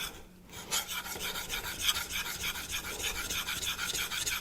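A convex knife blade is worked over a Naniwa diamond whetstone in quick, rhythmic rasping strokes, a steady close-up scraping that repeats evenly throughout.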